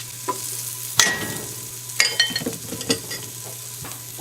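Ginger and garlic pieces sear in about two tablespoons of hot oil in a pan over high heat, sizzling softly with several sharp stirring scrapes and clatters spaced through the sound.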